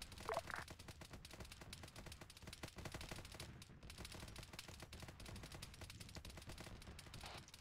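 Rapid sustained automatic gunfire in a Warhammer-style joint op video game, dense continuous bursts of shots filling the scene at steady volume with no talk.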